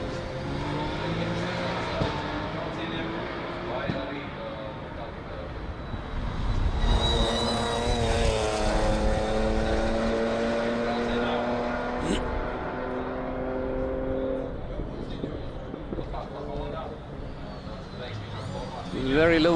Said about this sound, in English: And this is Audi number 55.